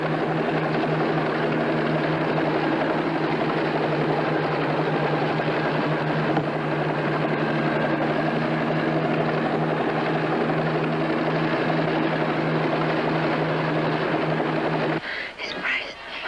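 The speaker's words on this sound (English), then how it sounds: "the recovery chopper from Baker Island is now picking up the two astronauts" A recovery helicopter from Baker Island hovering to pick up two astronauts, its steady rotor drone continuous and loud throughout before cutting off near the end.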